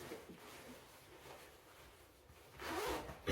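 A zip on a hiking backpack pocket is pulled open, a soft close rasp that is faint at first and then grows louder at the end.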